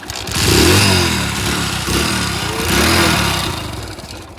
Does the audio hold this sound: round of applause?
no